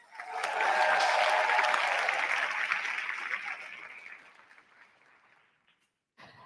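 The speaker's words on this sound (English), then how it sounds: "a round of applause, please" A debate audience greets a speaker with a swell of applause that peaks early, fades away gradually, and gives way to a brief sound at the very end.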